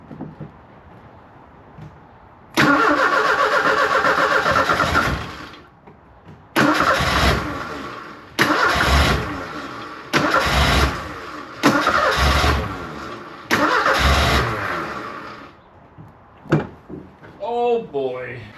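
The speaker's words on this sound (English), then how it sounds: "I do believe we're going to have a running engine here, because it fired." An old sports car engine, parked for 35 years, cranks loudly in about six long bursts with brief pauses and catches on starting fluid, followed by a short stretch of voices.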